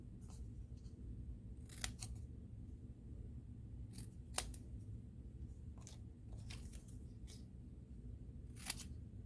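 A pair of scissors snips a V into the end of a ribbon strip, several crisp separate cuts heard close over a steady low background hum.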